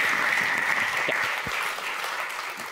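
A warm round of audience applause in a hall during a talk event, loud continuous clapping that fades slightly toward the end.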